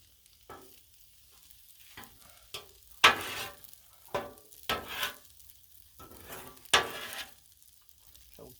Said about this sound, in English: make sure the shrimps are getting cooked without getting overcooked